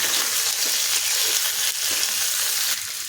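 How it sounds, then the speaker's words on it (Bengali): Vegetables, including drumsticks, eggplant and bitter gourd, frying in a pan give a steady, close hiss of oil with soft scraping from stirring throughout. "এখন ডাঁটা দিয়ে সবজিগুলো আরও কিছুক্ষণ ভেজে নিতে হবে।"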